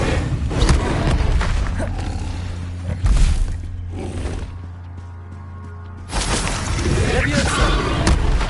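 Fire spell cast in the video game Hogwarts Legacy, a loud roaring, whooshing burst of flame with booming thuds, swelling twice around a quieter middle stretch.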